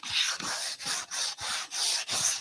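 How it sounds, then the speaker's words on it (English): A sanding block works over a drywall repair in long, even back-and-forth strokes, about six rhythmic scrubbing passes, close and alone. "So as I'm going along and I'm sanding"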